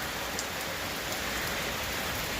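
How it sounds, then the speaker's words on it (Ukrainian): Steady rain falls on a village house and drips from the roof, a constant soft hiss of drops with no voices, close and even throughout. "Дощ іде майже цілий день."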